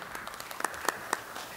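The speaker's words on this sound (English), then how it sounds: "So give your own self a hand clap for that." A small audience at a public hearing gives a brief burst of scattered hand clapping, quiet and sparse, with a few distinct claps standing out over a soft room background.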